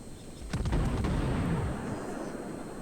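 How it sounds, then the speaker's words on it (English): Torpedo hits exploding in the naval battle game World of Warships, fired by the Tenryu: a deep rumbling boom bursts in after half a second and rolls on heavily to the end. "Those are the Tenryu's torpedoes."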